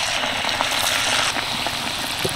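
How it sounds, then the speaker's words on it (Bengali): Bangladeshi nakshi pitha, patterned rice cakes, fry in hot oil with a steady, close, bubbling sizzle and hiss that stays even throughout, with no talking. "একটা পিঠে তেলের মধ্যে দিয়ে দেবো।"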